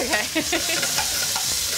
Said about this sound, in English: I'm gonna add the broccoli rabe back to the pan.